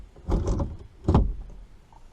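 Drawer in an RV bedroom sliding along its runners, two short rumbling slides about a second apart, close and fairly loud.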